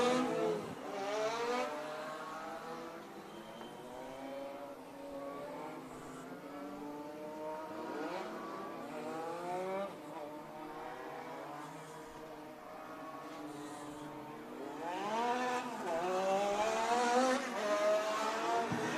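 Race cars lapping Stockton 99 Speedway during heat races, engines droning and rising in pitch as they pass, a continuous loud roar of several cars with a strong surge near the end.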